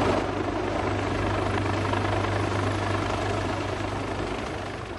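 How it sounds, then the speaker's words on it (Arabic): A medical evacuation helicopter gives off a steady, continuous rotor and engine drone with a low hum underneath. It stays loud and even throughout and fades slightly at the end, with no voices. "خمس طائرات إخلاء طبي جوي مجهزة بأحدث التقنيات"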